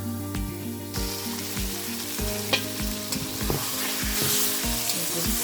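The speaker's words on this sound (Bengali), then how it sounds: "মাংসটা ভাজা ভাজা করতেছি" Beef and potatoes fry together in a pan for beef bhuna khichuri, a loud continuous sizzle with crackling spatters and a low steady hum underneath, no one speaking.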